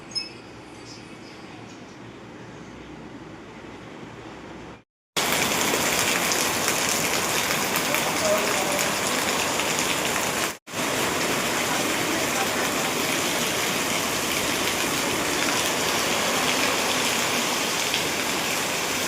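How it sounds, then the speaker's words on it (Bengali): Heavy monsoon rain pouring outside a home, a dense, loud, continuous hiss of downpour that starts abruptly after a quieter opening and keeps roaring steadily, with a brief cut partway through. "বাইরে ঝমঝম করে বৃষ্টি পড়ছে"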